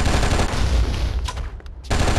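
A gun in the video game Oni fires a loud, continuous rattling burst that cuts off briefly before resuming, heard alone with no talking.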